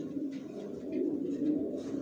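Young racer pigeons of Janssen and Long bloodlines cooing steadily and up close, a low continuous rolling coo with no talk.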